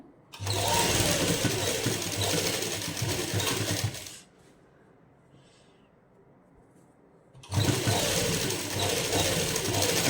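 Electric sewing machine stitching lace onto the hem corner of a suit, a loud steady whirring run, a pause of a few seconds, then stitching resumes.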